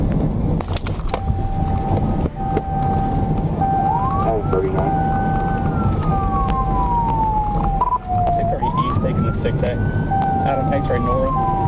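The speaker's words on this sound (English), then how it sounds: "When lights and sirens came on, the driver refused to stop" Police car siren wailing in rising and falling sweeps during a high-speed chase on Interstate 630, loud and close over steady road and engine noise, with a faint voice in the background.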